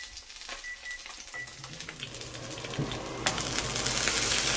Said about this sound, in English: I'm frying up some really old chicken thighs that I cooked like a whole week ago